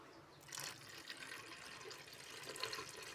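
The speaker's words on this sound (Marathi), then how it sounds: "आता याच्यात मला पाणी ॲड करायचं आहे" Cold water is poured into thick churned cream while making ghee, making soft, close gurgling and sloshing sounds that swell and fade over a few seconds, with no talking.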